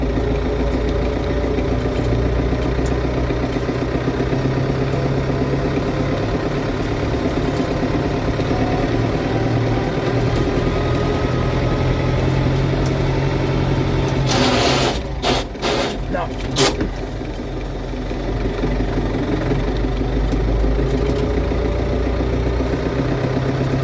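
A tractor engine runs steadily throughout, close and loud, while the driver tries to shift into third gear; a brief burst of clunks and rattles around the midpoint breaks the drone, and speech is heard over the engine.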